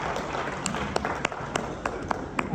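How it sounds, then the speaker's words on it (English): Audience applause for a woman presenter at a forum on female lawyers in national security, a steady wash of many hands clapping with a few sharper claps standing out, fairly close and continuous. "Another big round of applause please for her."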